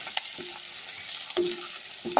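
Spices sizzling quietly in oil for a chicken curry, with a few spatula scrapes and taps as they are stirred in the pan.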